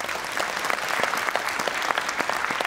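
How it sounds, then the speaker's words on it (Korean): Audience applause at a county residents' forum on globalizing the Geumsan Ginseng Festival, honoring visiting council members; steady, dense clapping from a sizable indoor crowd throughout, fairly even in loudness. "큰 박수 한번 부탁드리겠습니다."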